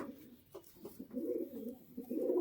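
Madras pigeon held in the hand, giving soft, low cooing in short repeated phrases, faint and close, with no talk.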